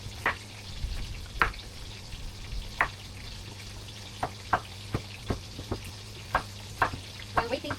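Fish fries in a pan with a low steady sizzle, and sharp spatters and pops land irregularly throughout, with no talk over it.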